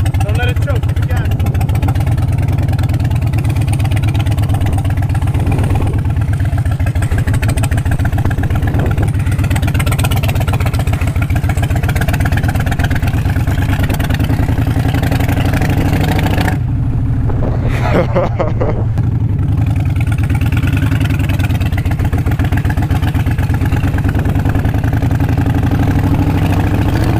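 Harley-Davidson motorcycle engine running loud and close, a continuous rumbling idle with revving surges throughout, one brief drop in the middle, with people talking over it.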